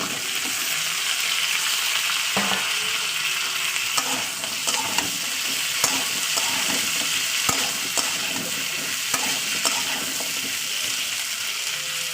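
Potatoes fry in a pan with a steady sizzle filling the clip, with scattered clinks and scrapes of stirring throughout.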